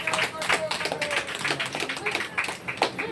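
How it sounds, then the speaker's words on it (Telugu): Scattered hand clapping from an audience at a church gathering for a prize presentation, loud and uneven over about three seconds, with voices talking and calling out over the claps. "క్లాప్స్."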